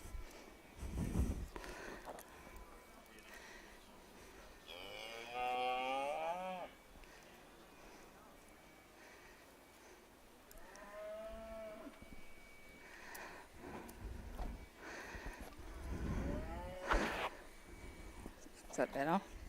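Steers low with drawn-out moos at an open led steer judging show, several calls rising and falling across the scene amid background crowd noise and an announcer's voice.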